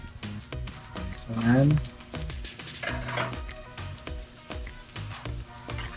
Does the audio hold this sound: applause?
no